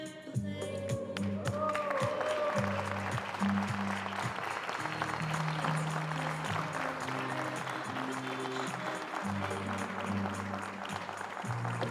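A crowd claps steadily and warmly after the ribbon cutting at the inauguration of the Mont-Tremblant sports centre, with sustained applause from a sizable audience indoors and little talking over it.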